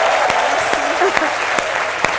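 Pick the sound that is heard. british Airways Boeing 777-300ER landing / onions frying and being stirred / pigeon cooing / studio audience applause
studio audience applause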